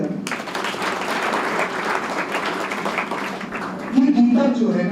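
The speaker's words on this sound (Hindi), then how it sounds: "ताली बजाएं।" A crowd gives sustained, dense applause at a career academy speech event, steady throughout with a voice starting to speak near the end.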